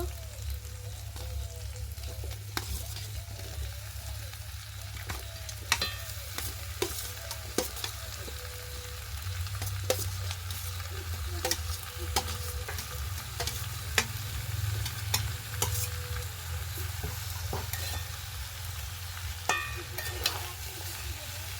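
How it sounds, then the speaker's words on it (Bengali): Spiced snakehead fish pieces and potatoes sauté in a pan for a pumpkin-greens curry, a steady close sizzle with repeated spatula scrapes and stirring clinks, with a faint voice briefly in the background. "এইগুলোর সাথেও ভালো করে আবারও কষাবো"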